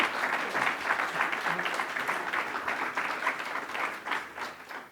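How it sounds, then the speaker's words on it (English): A university audience breaks into sustained applause honoring a former provost, dense clapping from a large crowd holding steady and full for several seconds with no voices over it. "So let's go ahead and cheer for Carol."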